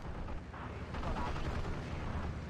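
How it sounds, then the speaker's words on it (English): Dense gunfire and explosion rumble from a Steel Division 2 World War II battle, with aircraft strafing 81mm mortar positions, forming a loud, continuous roar with overlapping bursts and no clear gaps. "81 mil mortars being strafed to death"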